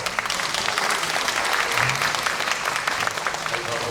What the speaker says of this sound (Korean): 우리 최민호 시장님이 큰 박수 좀 쳐주세요